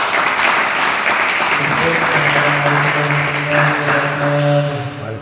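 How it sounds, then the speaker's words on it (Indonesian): Audience applause fills a gathering at an Arabic grammar lesson as a dense, steady wash of clapping, while a voice speaks over it. "Iya, oke, tepuk tangan dong."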